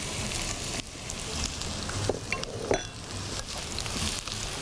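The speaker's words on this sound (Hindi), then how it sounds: "इसको हल्का गुलाबी होने तक फ्राई करेंगे" Two medium onions frying in a pan for black masoor dal, a soft continuous sizzle with a few stirring scrapes, fairly quiet and without speech.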